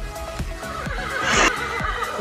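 Horses neighing on grazing land, a loud whinny rising mid-clip over rhythmic clip-clop hoofbeats and background music-like tones, heard without speech.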